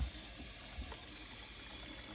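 Watts Premier Filter-Pure UF3 filtration system tanks filling with water, a faint steady rushing and trickling hiss, close and continuous with no talk.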